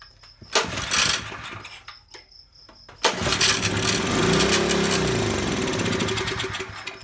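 A Harbor Freight 2hp generator engine pulls over with a few rough bursts, then catches and runs steadily with a loud, close, buzzing small-engine drone.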